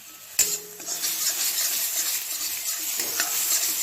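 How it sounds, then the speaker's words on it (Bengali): Spices with turmeric and salt being sautéed in oil for a thin Bengali egg curry, a sharp sizzle starting abruptly and continuing steadily with light stirring scrapes. "ভালো করে কষিয়ে নিই"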